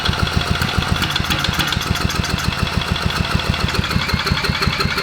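An old abandoned Briggs and Stratton 5HP generator engine runs at idle, close up and loud, with a rapid, even chugging pulse that holds steady from start to finish.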